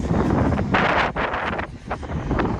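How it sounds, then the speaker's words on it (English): Strong gusting wind at Folly Beach, South Carolina, roars loudly and buffets the microphone, rising and falling in surges throughout, with no voices. "So it's very, very windy today"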